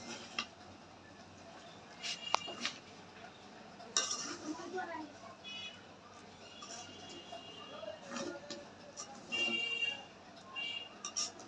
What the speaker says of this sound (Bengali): এবার ভালো করে মাংস দিয়ে পুরোটা দিয়ে মিশিয়ে নেব।